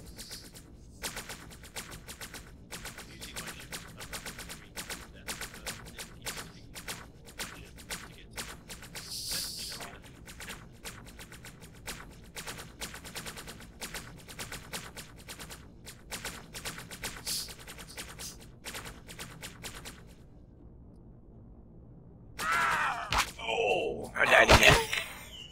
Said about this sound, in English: carrier keeps shooting me